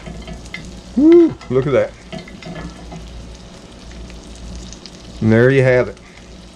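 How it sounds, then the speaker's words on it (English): A New York strip steak sizzles steadily in a hot pan while being basted with butter infused with rosemary, garlic and thyme, a continuous close frying hiss under brief bursts of excited talk. "Baste that steak with that nice butter sauce right there."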